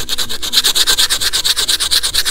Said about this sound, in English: I'll show you a little bit of the sanding.